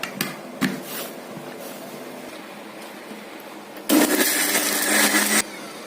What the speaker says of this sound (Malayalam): നമുക്കിത് നന്നായിട്ട് അരച്ചെടുക്കാം.